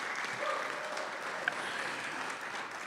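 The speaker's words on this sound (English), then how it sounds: "So a nice little applause for the Latino Theater Company." An audience claps steadily throughout at a memorial tribute celebrating a life, a dense, moderately loud wash of hands with no voices over it.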